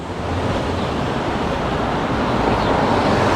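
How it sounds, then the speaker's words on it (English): Strong wind buffets the microphone while cycling along a city street in Jersey City, New Jersey, giving a constant loud roaring rush with no voices for the whole short stretch. "Wow, it's windy."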